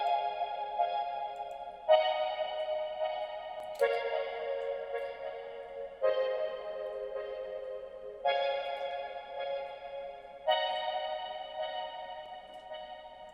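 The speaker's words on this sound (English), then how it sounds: "that sound was from the Nexus guitar expansion pack" Synthesized guitar from a Nexus guitar expansion pack for an Afrobeat beat, playing a repeating melodic phrase in six evenly spaced chord-like strikes about two seconds apart, each ringing out with chorus-like shimmer and no voices.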